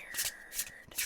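Tarot cards being shuffled by hand during a reading, three quick soft riffling bursts in close succession, near and fairly quiet.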